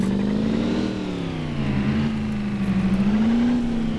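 A Holden HSV Maloo ute held in second gear in City Car Driving, its engine droning and revving steadily up and down, close and loud with a slight pulsing throb near the end.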